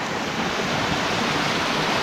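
A small waterfall along a hiking trail in Glacier National Park sends out a steady, full rush of falling water that stays close, loud and unchanging, with no voices.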